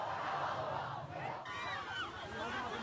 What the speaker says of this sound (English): Leave us alone at last, the crowd chants.